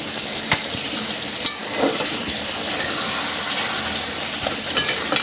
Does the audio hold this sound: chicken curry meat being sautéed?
yes